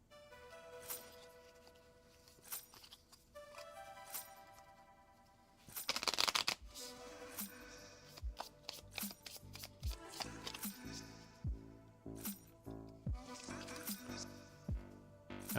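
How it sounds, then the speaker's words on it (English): Board game cards for a Fire Giant deck are shuffled up close. The sound is a quick burst of riffled card flutter, followed by a series of crisp taps and clicks as the cards are squared and handled, fairly quiet overall. "So, let's grab out these Fire Giant cards. Give these a shuffle."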